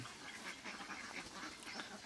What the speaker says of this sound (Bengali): দেখুন সব হাঁস, কিছু হাঁস উপরে থাকে আর কিছু হাঁস থাকে পানিতে।